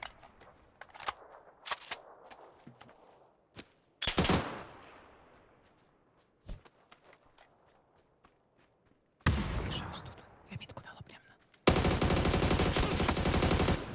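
Sharp gunshots from the video game PUBG on the Sanhok map crack out in scattered bursts, then sustained rapid automatic fire near the end, with quiet gaps between and faint footsteps.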